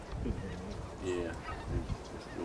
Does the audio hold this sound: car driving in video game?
no